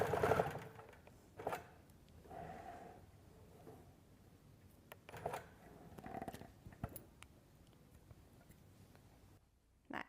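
A sewing machine tacks down the edges of an upcycled quilt, running in short bursts with brief pauses between them and closing in silence, with no talk over it.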